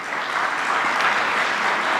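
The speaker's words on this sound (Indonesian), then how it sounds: "Tepuk tangan lagi untuk kita semua." An audience claps at the opening ceremony of specialist medical programmes at Indonesian universities. The applause is a continuous, even wash of clapping with no talk over it and no breaks.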